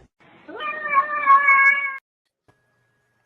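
A cat gives a single drawn-out meow lasting about a second and a half, clear and close, followed by near silence.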